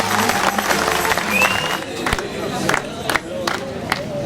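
Crowd at a political rally in Göynük, Turkey, claps and cheers loudly, with voices shouting over the applause and sharp individual claps popping through a thick, close crowd roar.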